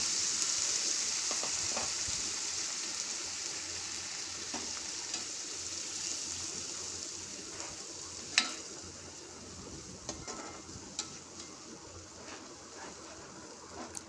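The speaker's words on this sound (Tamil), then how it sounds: "ஒரு 4 தக்காளி அது போட்டு இதையும் நல்லா வணக்கிக்கலாங்க." Onions and four ground tomatoes sautéing in a nonstick pan for Salem-style fish curry, a steady close sizzle with occasional faint clicks of stirring.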